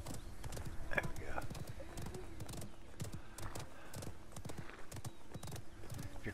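Horse hooves clip-clop in a quick gallop rhythm in the video game Realm Royale, fairly quiet under a player's talk and other game sounds.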